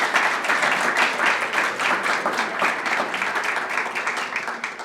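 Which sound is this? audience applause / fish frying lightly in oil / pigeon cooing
audience applause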